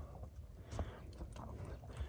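A horse for sale, urged into a run, gives a steady clip-clop of hooves on the ground at moderate distance, fairly faint and continuous throughout.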